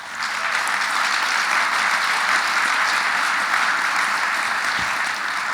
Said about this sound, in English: Let's give Chairman Hogan a big round of applause.